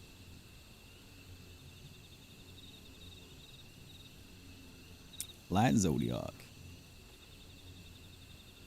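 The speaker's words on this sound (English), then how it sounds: "the lack of background music and with the crickets and stuff" Ambient crickets at Baelsar's Wall in Final Fantasy XIV chirp as a faint, steady high trill, interrupted midway by a brief, louder burst of another sound.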